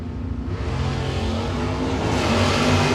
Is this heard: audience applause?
no